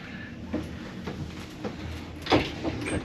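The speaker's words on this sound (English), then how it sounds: "Check out this shower door." A glass shower door in an interior cabin aboard the Carnival Jubilee cruise ship slides along its track with soft rolling rumbles and a brief scrape near the end, fairly quiet and close.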